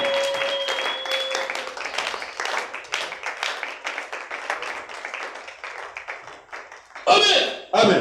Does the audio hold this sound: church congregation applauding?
yes